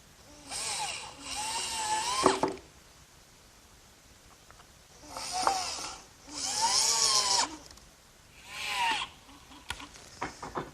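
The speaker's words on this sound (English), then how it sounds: "I'm ready to set this piece in place and fasten it to the frame with some screws." A power drill drives screws to fasten a wooden runner to a workbench frame, several whining bursts of a second or two with rising and falling pitch and short gaps between, close up and without speech.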